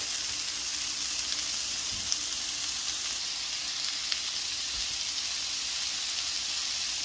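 Chopped onions fry in a hot pan with a steady, even sizzle and hiss, close by and unbroken throughout, with a few faint clicks and no voices.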